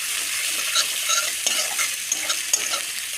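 Fish cooking with ginger and garlic paste is stirred gently in a pan, giving a bright, steady sizzle with soft scraping strokes and occasional light clinks, close and unbroken, with no voices.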